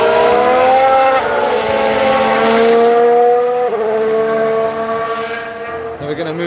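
Loud racing car engine at a Barcelona test session, a high whining tone that sweeps down and shifts pitch as the car passes close, fading slightly toward the end with a brief rattle.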